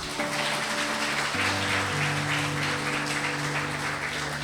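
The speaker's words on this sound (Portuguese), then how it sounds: "Vamos aplaudir Jesus." A church congregation applauds in unison, dense steady clapping under sustained organ or keyboard chords that shift partway through, evenly loud from start to finish.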